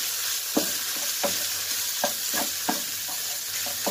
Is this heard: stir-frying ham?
yes